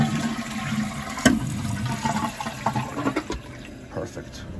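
Water rushes and gurgles steadily through a Williamson steam boiler being flushed and refilled, with sharp clanks and knocks over the flow and a voice talking faintly in the background.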